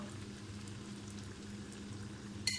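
Crispy semolina twists fry in oil with a faint, steady bubbling sizzle that goes on evenly throughout, with no voices over it.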